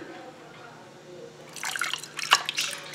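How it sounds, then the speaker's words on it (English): Water poured into toy dinosaur egg containers, a quiet lead-in followed by splashing, trickling drips that grow louder in the second half. "Let's add the water in."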